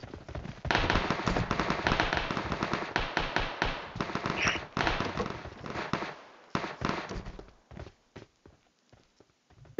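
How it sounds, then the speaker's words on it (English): Gunfire in the mobile battle royale game PUBG Mobile, a rapid run of sharp bursts and single cracks of uneven loudness, fading into sparser shots toward the end. "Oh, I hear gunshots."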